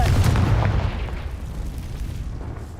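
A Confringo blast spell explodes in Hogwarts Legacy with a deep, booming burst that is heaviest at the start and then fades into a low rumbling tail.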